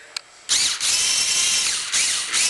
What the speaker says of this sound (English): Impact, that's my impact.